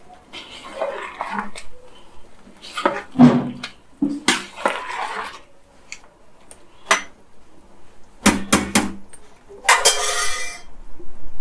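Metal utensil scraping and clinking against a pot of chicken biryani in irregular bursts, with a few sharper clanks and wet rattling, close by.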